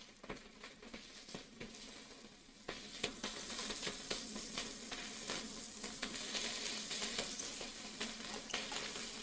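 Curry mixture stirred and frying in a pan, a steady sizzle with scraping stir strokes throughout, growing slightly louder partway through, with no talking.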